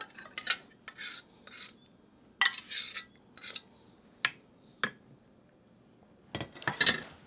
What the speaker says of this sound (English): I'm going to take the rest of the sauce and I'm going to ladle it over top